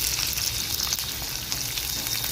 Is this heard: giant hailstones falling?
no